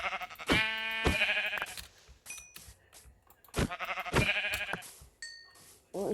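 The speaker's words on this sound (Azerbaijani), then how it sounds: "Başqa qoyun, gəl bura." Sheep bleat in a survival video game, two loud, drawn-out bleats a few seconds apart, with a few short electronic chimes between them.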